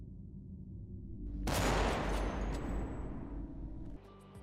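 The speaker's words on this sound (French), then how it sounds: "La vidéo s'est conclue par un coup de feu" A single loud gunshot cracks out abruptly after low rumbling background noise, and a long rolling echo follows and fades away over several seconds.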